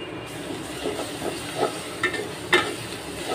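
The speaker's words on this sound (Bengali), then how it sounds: "তেলটা গরম হওয়ার পরে পেঁয়াজ কাঁচামরিচ দিয়ে দিচ্ছি" Onions and green chilies frying in hot oil, a constant close sizzle with a few soft stirring knocks and one sharper clink, no voices.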